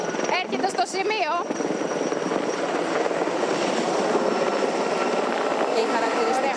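A firefighting helicopter over a wildfire in the Vari–Koropi area of Greece makes a loud, continuous rotor and engine roar close by, with a reporter's excited speech running over it.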